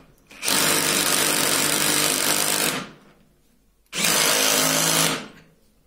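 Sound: DeWalt DCD7771 brushless drill driving at torque 15

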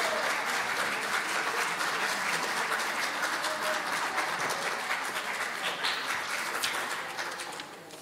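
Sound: applause in Chamber of Deputies session

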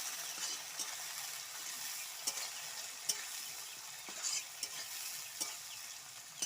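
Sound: chopped onions frying in hot oil

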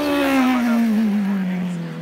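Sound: ice speedway racing sidecar engine at the start

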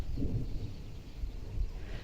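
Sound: distant thunder rumbling

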